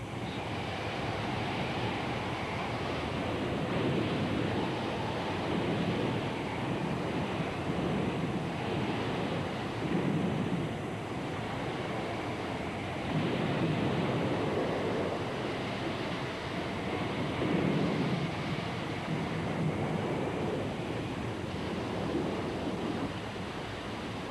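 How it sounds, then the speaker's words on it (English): A tidal bore surges up a river, its waves over 13 feet high, heard as a constant heavy roar of churning water with wind buffeting, rising and falling in slow swells throughout. "the waves reach a height of over 13 feet and will continue up the river almost 150 miles"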